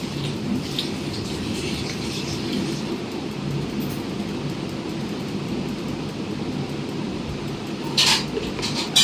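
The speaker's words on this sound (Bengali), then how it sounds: "আর বৃষ্টি হয়েই যাচ্ছে বন্ধুরা," Steady rain falls outside a home, a continuous soft patter and wash at an even level throughout, with a brief sharper spatter near the end and no voices.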